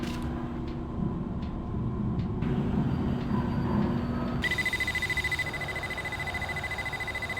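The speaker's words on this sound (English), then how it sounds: "If I reprogram the timer, I can make the alarm go off almost immediately." A pizza heater's timer alarm in the adventure game Dreamfall starts up partway through, a steady electronic beeping tone pulsing over a low, constant hum.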